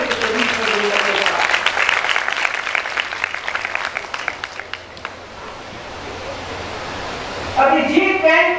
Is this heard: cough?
no